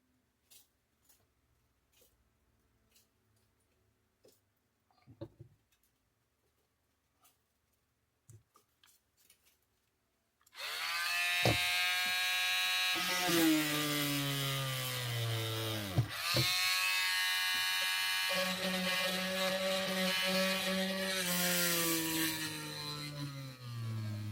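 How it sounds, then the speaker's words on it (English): Electric drill boring into plastic on a workbench starts after about ten seconds of quiet handling clicks, then whines loudly and steadily, dipping in pitch twice as the bit bites, close and without talk. "This plastic tends to melt onto your drill"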